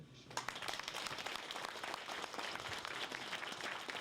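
Sustained audience applause fills a hall during a neighborhood town-hall meeting with citizens in Gwangmyeong, steady dense clapping from a nearby crowd throughout.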